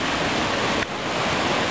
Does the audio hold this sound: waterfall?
yes